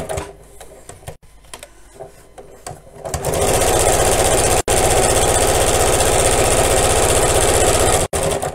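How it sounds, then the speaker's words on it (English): A sewing machine topstitches near the edge of a child's apron, starting with soft handling sounds and then running in a loud, steady close-up whir with two brief stops. "I'm just sewing again about an eighth of an inch from the edge"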